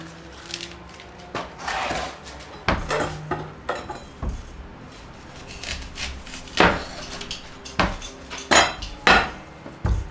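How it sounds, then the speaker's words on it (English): Knife chopping an onion small on a board, irregular sharp knocks and taps, some single and some in quick clusters, close and fairly loud with kitchen clatter between and no talking. "I'm also going to do some that are cut quite small, because sometimes you need slices, sometimes you need small chopped onion."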